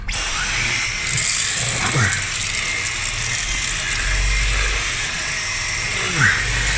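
A Dyson V11 cordless vacuum running on medium mode over a car floor mat, a steady whirring motor hum with a few clunky rattling scrapes and bumps as the head moves across the mat.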